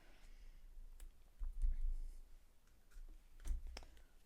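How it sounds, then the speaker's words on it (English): Scissors snip through a craft sticker with both backing sides still attached, giving a few soft, close clicks and crisp cuts spaced apart over a quiet room. "I'm going to use scissors. I'm going to cut it while they're both sides are still stuck on"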